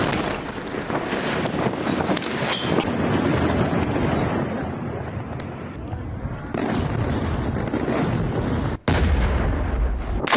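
Bombardment and air strikes in Lebanon, heavy rumbling blasts and crackling booms mixed with wind buffeting on the microphone, loud and continuous with an abrupt cut near the end.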